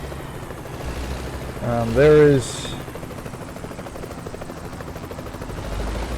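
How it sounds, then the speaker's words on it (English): Helicopter in the truck-driving game American Truck Simulator, passing near the Grand Canyon: a brief loud rotor swell with rising engine tones over steady background rumble, with someone talking over it. "There's the helicopter."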